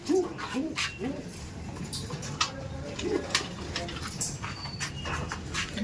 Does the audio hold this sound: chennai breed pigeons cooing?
yes